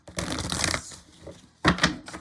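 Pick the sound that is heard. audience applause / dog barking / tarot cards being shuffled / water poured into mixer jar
tarot cards being shuffled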